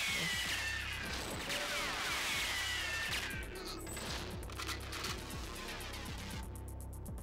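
Rapid bursts of gunfire crackle repeatedly over a dense, noisy backdrop in the video game GoldenEye 007, with sharp shots scattered throughout.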